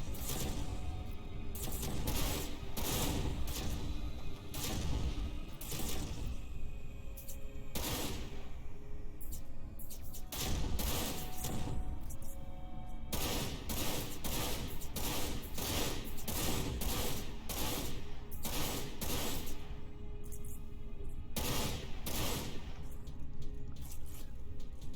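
Rapid bursts of rocket and weapon fire in the shooter game Dirge of Cerberus, dense and loud, with repeated sharp blasts and crashes packed tightly across the whole stretch and no talk.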